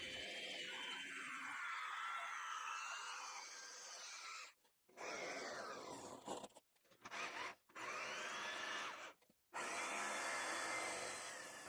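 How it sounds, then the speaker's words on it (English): A jigsaw cuts through wood in a long steady buzzing run, then stops and restarts in several short bursts with brief silences between, close and loud throughout. "One downside of using this jigsaw is it doesn't blow the chips away"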